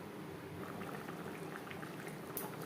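Potato and soybean curry gravy bubbles gently in a pot, a quiet continuous simmer with soft pops and faint plopping, alone without speech.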